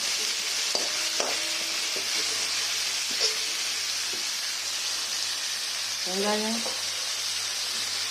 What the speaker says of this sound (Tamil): 2 பெரிய வெங்காயத்தை அதை இதில் சேர்த்துக்கலாம். நல்லா பொன்னிறமாக வணக்கணும்.